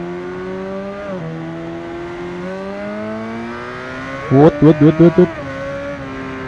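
2015 Kawasaki Ninja ZX-10R in Ride 2, engine droning steadily with pitch shifts, then five sharp rapid revs in quick succession near the end, close and loud, with a brief spoken word.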